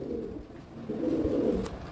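Soft, low pigeon cooing close by, a couple of throaty warbling phrases in quick succession.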